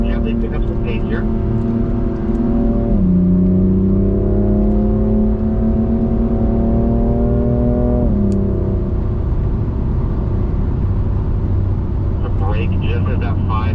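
A BMW car accelerates on a race track, its engine droning loudly and close with a steadily rising pitch broken by two gear changes, a faint voice underneath.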